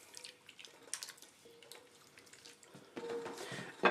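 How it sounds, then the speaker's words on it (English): A spoon stirs beef bourguignon in a pot, giving soft, sporadic scrapes and wet liquid clicks. The sound is quiet and close, with a slightly louder burst of stirring near the end. "let's give this a stir."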